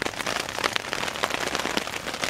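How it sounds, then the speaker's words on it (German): Rain patters steadily on a camping tarp over snowy ground, a dense spray of close, irregular droplet taps with no voices. "das lauschige Klopfen, was man im Hintergrund hört, ist der Regen, der gerade auf uns runterprasselt"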